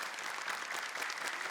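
A studio audience on a televised Quran recitation competition applauds for two young contestants, giving a brief, full burst of close, continuous clapping with no talking over it.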